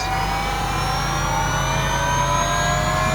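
A 1/4-scale Losi Promoto-MX RC motorcycle engine starts up and runs with a high, steady whine and rising pitch, droning continuously and close without any voices.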